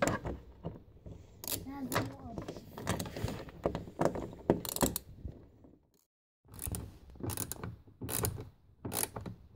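A screw is backed out from the bottom of the rear sliding door trim on a VW Sharan 7N, with quick mechanical clicks and rattles up close among handling noise and a short silent gap.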